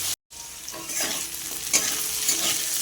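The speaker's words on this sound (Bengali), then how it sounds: "মাছ ভাজার তেলেই আমি দেবো পাঁচফোড়ন, দিয়ে দেবো কেটে রাখা আলু টমেটো" Cut potatoes and tomatoes with panch phoron fry in oil left over from frying fish. After a brief silent gap, a close, steady sizzle runs on with spoon-stirring scrapes over it and no talking.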